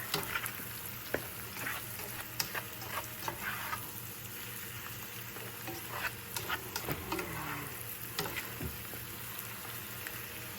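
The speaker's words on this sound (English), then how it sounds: "Got 5 eggs. We'll hack them up a little. Give it a nice big stir." Five eggs chopped up and frying in a pan, sizzling steadily with scattered scraping clicks as they are stirred, close and moderately loud with no talking.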